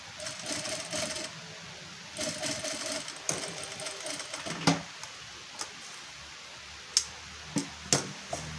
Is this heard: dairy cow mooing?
no